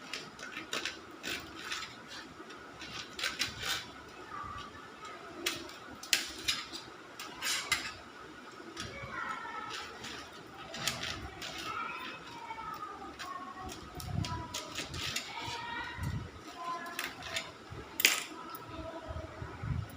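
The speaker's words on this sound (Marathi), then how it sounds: "तर अशा प्रकारे मी सर्व करटुले कापून घेते" Spiny gourds (karatoli) being cut with a knife, a run of sharp close clicks and taps on a board with scraping and light clatter, irregular and continuous through the stretch.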